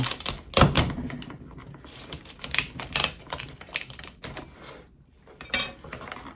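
A knife slices through crab legs for a seafood boil, producing a run of irregular sharp cracks, snaps and clicks of shell, close and fairly crisp, with short pauses between cuts.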